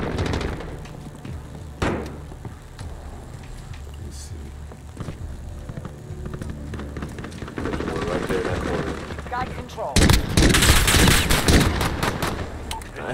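Gunfire from a Modern Warfare multiplayer match: scattered single shots and short automatic bursts, growing into heavy sustained fire near the end, with game voices and a player talking over the action.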